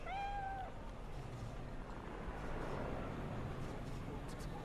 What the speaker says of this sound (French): Ou je sais même plus comment on les appelle ces chats là.